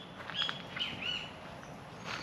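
Small bird chirping in a woodland grove in Roraima, a few short, faint high chirps spaced over two seconds, distant against quiet forest background.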